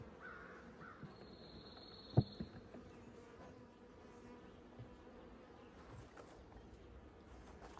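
Honeybees buzz softly and steadily in an open hive's brood chamber, a low continuous drone with one sharp knock partway through.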